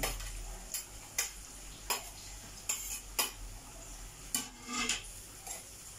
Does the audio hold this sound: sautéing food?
yes